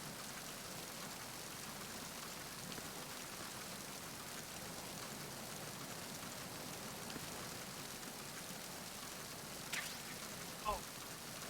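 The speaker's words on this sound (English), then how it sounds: "It's raining." Steady rain in Metal Gear Solid 2: Sons of Liberty, a continuous even hiss that does not change for the whole stretch, with one brief faint knock near the end.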